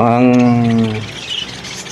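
Pet budgerigar parakeets call out, a loud harmonic squawk held for about a second, then scattered softer chirps and rustling nearby.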